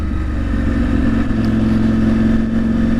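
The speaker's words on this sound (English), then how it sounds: "I removed the baffle from the decap pipe, and the effect has been a very, very slight increase in exhaust noise" A KTM motorcycle idles steadily through a decat exhaust pipe with its baffle removed, a close, even mid-pitched engine drone with a strong hum and no revving, heard alone.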